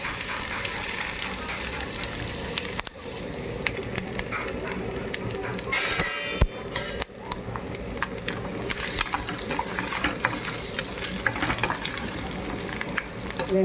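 Garlic, urad dal and a dried red chilli frying in a little oil, a steady moderate crackling sizzle with a few knocks and clatters of the pan partway through.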